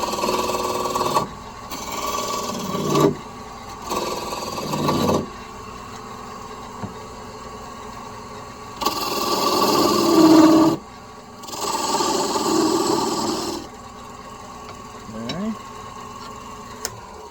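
Wood lathe spinning a bowling pin while a chisel bevels it: a steady motor hum under repeated bursts of rough, scraping cutting noise, a few seconds each, separated by brief quieter pauses.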